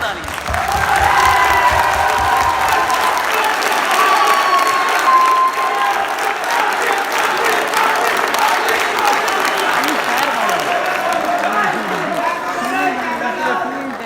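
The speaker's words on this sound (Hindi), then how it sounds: "आपके लिए भरपूर ताली।" Audience at a poetry mushaira applauding loudly and steadily for the whole stretch, dense clapping with some cheering and crowd chatter mixed in, a voice speaking over it.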